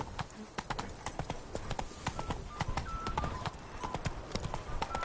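Horse hooves trotting in a steady clip-clop rhythm for Roach, Geralt's horse in The Witcher 3: Wild Hunt (Blood and Wine), close and continuous over a faint ambient bed with light background noise.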